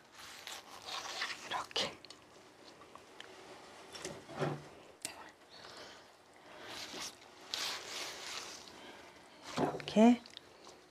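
Aged kimchi (mukeunji) torn into small strips by hand, producing soft, wet squishing and tearing rustles in irregular bursts beneath steady spoken instruction, with a few sharper crunches near the end.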